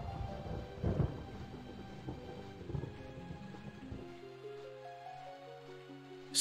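Rain and thunder in the wilderness of the video game Daggerfall: a steady wash of rainfall with low thunder rumbles swelling near the start and around the third second, under faint tonal game music.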